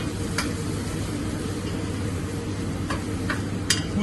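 Garlic sizzling gently in a pan over lowered heat, a steady soft hiss with a few faint clicks of stirring, no voices.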